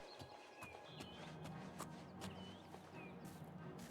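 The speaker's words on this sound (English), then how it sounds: "I hear a horse." Horse in Oblivion Remastered, heard as soft clip-clop hoofbeats moving along amid game ambience, with faint bird-like chirps and no speech over them.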